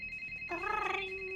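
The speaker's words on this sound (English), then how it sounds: "That's your emergency phone." An emergency phone in a Barbie video game rings with a bright, electronic, tonal trill that starts suddenly over a faint background hum and fades to a lingering tone.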